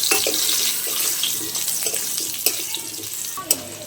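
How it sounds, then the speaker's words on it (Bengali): Cut potatoes go into hot cooking oil already used for frying, giving a loud, steady sizzle and crackle close by with a couple of sharper pops near the end and no speech. "ওই একই তেলে কিন্তু আমি কেটে রাখা আলুগুলো দিয়ে দিচ্ছি"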